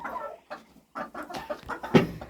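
Several chickens cluck nearby in short, uneven bursts, a soft chorus of clucks with brief pauses between them.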